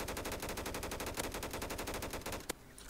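Rapid automatic gunfire in Roblox Silent Assassin, a steady fast burst of shots running loud and close for over two seconds, then one sharp shot and a cut-off tail.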